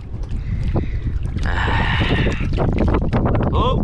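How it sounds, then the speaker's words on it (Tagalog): Strong wind blowing at sea during oyster gathering, a steady heavy roar buffeting the microphone, with water sloshing and a brief exclamation from a voice. "Malakas na naman ng hangin mga kapanalig."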